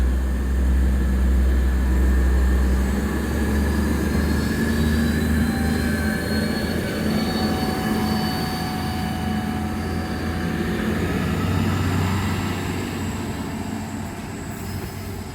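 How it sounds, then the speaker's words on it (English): A train departing a station toward Dungog, Australia, rumbles steadily nearby, low engine drone and rolling noise holding for the whole stretch, gradually easing slightly as it moves off. "It's now departing. The next stop that is required for this train to make is Dungog."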